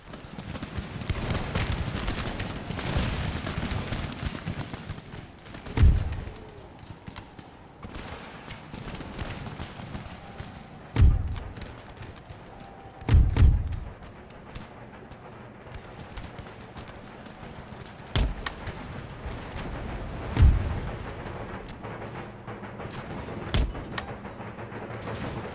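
Infantry volleys and cannon fire in the Empire: Total War video game, with sharp booming shots at irregular intervals over a constant rumbling battlefield din. A few shots land close together.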